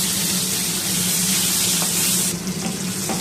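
Cut potato chunks drop into hot oil left from frying bhetki fish, giving a loud, steady hiss and sizzle that stays dense throughout.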